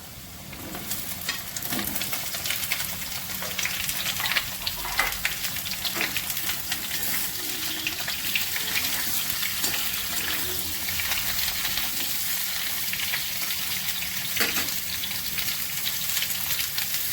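Continuous loud sizzling of potatoes and ridge gourd frying in hot oil, with occasional scraping and stirring clicks throughout.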